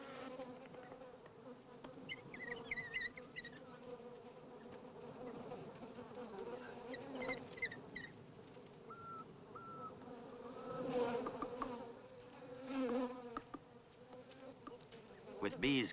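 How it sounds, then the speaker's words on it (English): A swarm of bees buzzes steadily around a pack of wild dogs in the open, a soft, dense hum that swells and fades, with no talking. "The arrival of a swarm of bees makes common victims of all the dogs of the Genghis pack."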